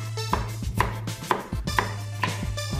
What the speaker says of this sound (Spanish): Y este, como es más duro, lo voy a cortar en láminas.